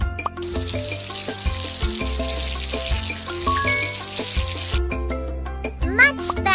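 Water rinsing a baby doll, a steady hissing spray that runs for several seconds and then stops, over a bright plinking musical tune.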